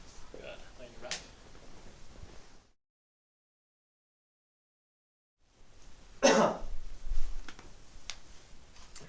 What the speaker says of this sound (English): I coughed into my elbow, by the way.